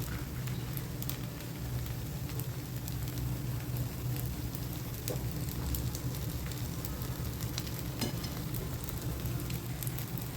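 A rice flour dosa fries in oil on a pan, a soft, even crackling and spattering like light rain, steady and fairly faint for the whole stretch, with no voices.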